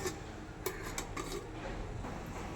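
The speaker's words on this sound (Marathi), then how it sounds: "आपण आता इडली पात्रात ठेवूया." Metal idli plates set down into a metal steamer pot, giving a few light clinks and scrapes of metal on metal over a low room hiss, with sharper knocks near the start and middle.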